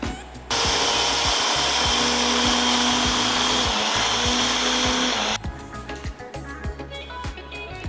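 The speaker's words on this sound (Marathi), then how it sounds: "रात्रभर भिजवून याला बारीक करून घ्यायचं आपल्याला" Electric mixer grinder blending a cup of overnight-soaked rice into smooth batter, a loud steady whir lasting about five seconds before it stops, leaving quieter clatter afterwards.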